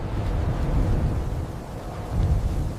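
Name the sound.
storm with thunder and wind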